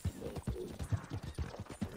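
Horse hooves clip-clop at an even trotting rhythm in the video game Red Dead Redemption, each footfall a soft, muffled thud, quiet and close with no talk over it.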